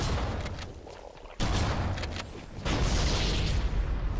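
A grenade explosion in the Halo CE Anniversary video game bursts loudly and close, a sudden broadband boom followed by sustained rumbling blast noise and debris, with no speech over it.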